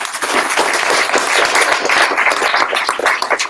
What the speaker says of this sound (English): so round of applause for inspiration